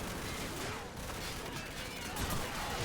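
Rapid gunfire from a Call of Duty 4: Modern Warfare battle rattles continuously as a dense, loud wash of overlapping shots and combat noise with no clear pauses.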